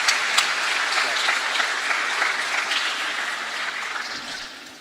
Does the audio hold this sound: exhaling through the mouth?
no